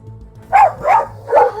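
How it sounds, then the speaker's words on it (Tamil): Cartoon dog barking in a Tamil kids' story, three sharp barks in quick succession, close and loud over a faint low background. "அந்த நாய் என்ன கடிக்க வந்துச்சு."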